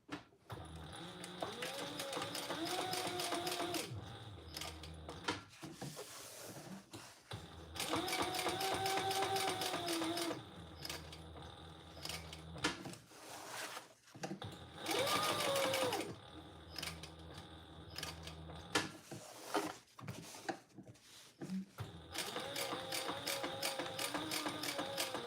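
A sewing machine stitching a laptop bag, adding a second row of stitching along the top. Bursts of rapid mechanical whirring run for several seconds each, separated by brief pauses, close and clear.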